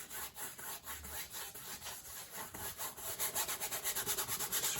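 A paintbrush scrubs oil paint onto canvas for an outdoor landscape, making a steady run of rhythmic rubbing strokes that grow quicker and more even toward the end. The strokes sound close and moderately loud, with no talking.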